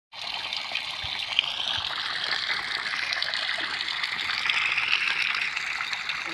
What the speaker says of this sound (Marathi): रवींद्र घोरपडे कानडे यांनी पाणी दिलेलं आहे ते पाऊन तास एवढी एक इंचाची नळी चालत